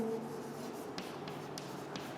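Writing during a class 12 physics lesson on the Wheatstone bridge, heard as soft scratchy strokes with a few brief taps against a quiet room background.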